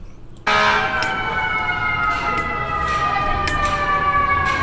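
Emergency vehicle sirens start abruptly and wail steadily in the distance, a sustained tonal blare over the hum of traffic.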